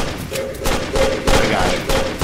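Gunfire from the video game Amazing Frog cracks in quick bursts of several shots, fairly loud among game sounds, with a person talking over it.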